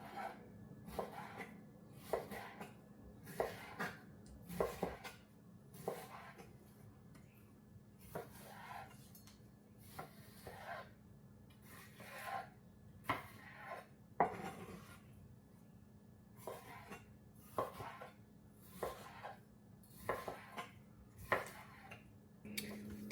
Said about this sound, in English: I have 2 to 3 pounds of chicken breast. I'm just going to go ahead and dice it up and season it.